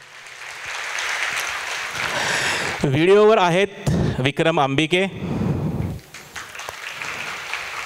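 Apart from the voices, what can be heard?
audience applause for crew members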